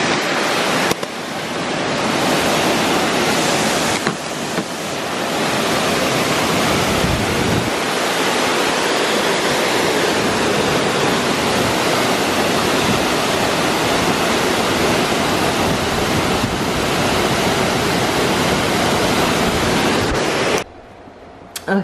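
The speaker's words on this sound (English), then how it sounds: "It started raining really hard. Okay, it's really loud, but this is the second waterfalls." Waterfall in Guam during a heavy downpour, a loud, dense, continuous roar of falling water and rain close by that holds steady for most of the stretch before cutting off near the end.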